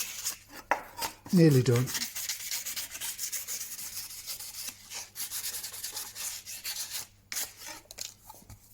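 A file rasps across the corners of a steel card scraper in a short burst of gritty scraping strokes, followed by quieter handling noises. A voice briefly speaks.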